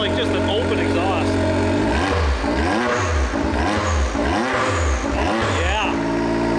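A nitrous-powered Can-Am X3's engine revs repeatedly through a resonator placed before the exhaust cutout, loud rhythmic climbs and falls close by, a clean, throaty tone without an open-pipe rasp.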